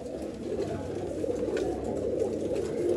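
Pigeons coo steadily in a loft of old-line pigeons for sale in Bangalore, a low, continuous murmur of overlapping birds close by.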